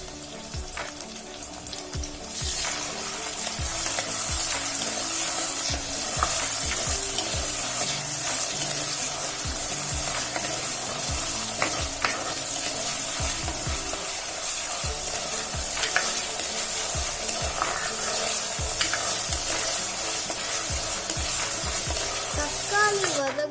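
Tomatoes sautéing in a pan for a mini bitter gourd dish with dry tuna flakes, a continuous bright sizzle of frying with frequent stirring scrapes and clinks over about twenty seconds, no talking.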